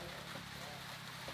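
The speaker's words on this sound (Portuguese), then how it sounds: "Nova Jaguaribara, chuva hoje à noite." Night rain falling steadily in Nova Jaguaribara, Ceará, a constant broadband hiss of drops with a low rumble beneath, even and unbroken throughout.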